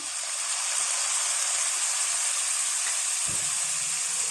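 Fish oil sizzles and crackles steadily in a pan while frying kway teow with meatballs, a soft continuous hiss with a faint clunk near the end.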